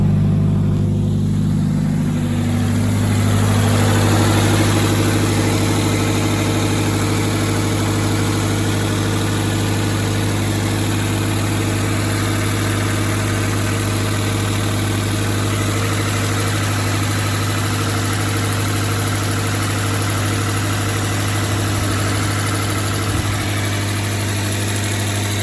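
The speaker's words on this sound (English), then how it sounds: "I'm gonna go ahead and start the car." A first-generation BRZ/FR-S/GT86 engine starts and then idles steadily after a 2022 second-generation OEM oil cooler install, a loud continuous low hum with a bright cranking burst in the first few seconds and no talk.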